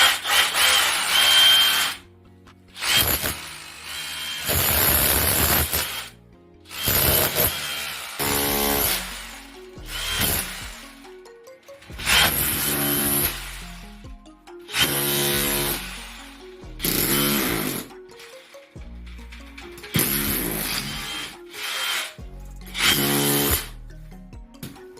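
Power tool cutting away part of a wall around an electrical socket, in repeated loud bursts of grinding and whining separated by brief silences, close and harsh throughout.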